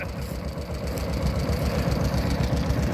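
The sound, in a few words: 1944 two-cylinder tractor engine running at ploughing match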